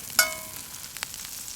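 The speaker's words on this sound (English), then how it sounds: "Gonna get that nicely sizzling." Butter sizzling in a frying pan outdoors on a camping trip, a faint steady hiss with a brief metallic clink near the start.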